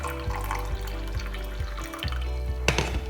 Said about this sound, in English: half a cup of warm water.